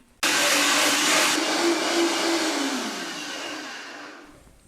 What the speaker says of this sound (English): Let's do a second blender of sunflower, linen and hemp.